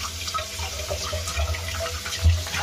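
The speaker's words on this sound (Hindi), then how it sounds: "नल के नीचे इसको डाल दे रहे हैं, ये ठंडे पानी में धो लेंगे इसको" Homemade paneer being rinsed under a running kitchen tap with cold water, a steady close splashing stream that rises briefly near the end, with no talk.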